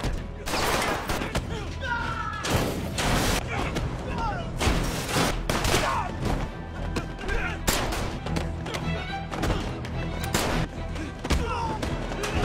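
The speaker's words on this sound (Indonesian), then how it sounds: "Keduanya lari sambil menembak dan menghajar para penjaga ini." Gunfire and a brawl with prison guards in a film, with repeated loud gunshots and heavy impacts in a dense, continuous barrage of action sound throughout.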